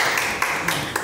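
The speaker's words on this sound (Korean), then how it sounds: "박수." Applause at a Buddhist monk's talk, a brief stretch of crowd clapping with a few sharper individual claps standing out from the steady patter.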